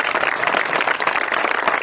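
Steady applause from an assembled audience at the proclamation of park guides for Gran Paradiso National Park in Ronco, welcoming the new director, dense continuous clapping without a break.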